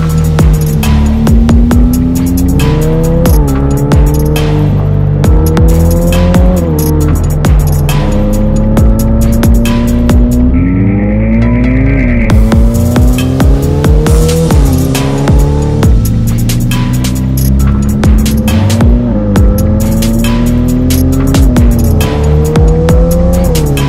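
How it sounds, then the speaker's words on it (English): A Novitec Ferrari F8 N Largo supercar in Rosso Magma, one of 15 built, drives hard. Its loud engine revs up and drops back through repeated gear shifts, with a brief tire squeal, steady and close for the whole stretch. "Crazy, the fact that we're driving another F8 in Largo"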